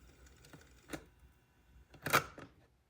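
A vintage Kraco KS-960G car cassette player gives a few mechanical clicks and clunks as its buttons are pressed, with a louder clatter near the end, all close and fairly quiet.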